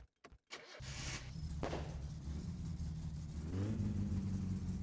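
The Satsuma car engine in the video game My Summer Car cranks and catches after a few clicks, then settles into a steady rumbling idle that grows slightly louder toward the end.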